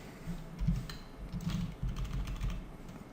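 Fingers type on a computer keyboard in a steady run of soft, quick clicks and taps, close by and alone.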